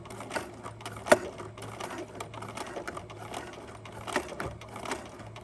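A sewing machine backstitches a seam on a winter headband, giving a soft, rapid mechanical whirring with light clicks and a few sharper knocks, steady and close with no talking.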